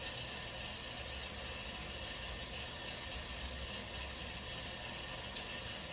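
An Artisan M10 Sniper Pro coffee roaster runs mid-roast with a steady mechanical whir and faint rattling of beans turning inside the drum, continuous and even throughout.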